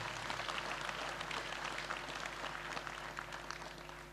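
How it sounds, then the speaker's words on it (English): A church congregation claps for Jesus Christ at a deliverance testimony service, a dense, steady wash of many hands filling the room throughout, with a low hum underneath and no talking. "Clap for Jesus Christ."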